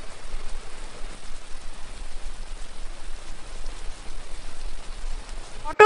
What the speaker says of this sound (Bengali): পটল দিয়ে নেড়ে চেড়ে ভেজে নিচ্ছি।